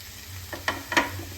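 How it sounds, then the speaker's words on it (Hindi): Grated bottle gourd and carrot fry in a pan on high flame, a soft steady sizzle broken by a few brief scraping stirs, close and fairly quiet with no talk. "अब लौकी को अच्छी तरह से मिक्स करें और इसको हाई फ्लेम पर 1 मिनट तक इसी तरह से भून लें।"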